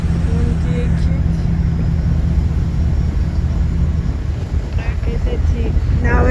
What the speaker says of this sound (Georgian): ცოტა ქარია